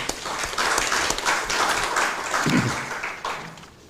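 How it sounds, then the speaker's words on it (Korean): Audience applause at a policy debate on relocating the Gwangju military airport, held in the National Assembly members' hall; a steady round of clapping from the room, fairly close, with a brief low voice murmuring partway through. "박수 한번."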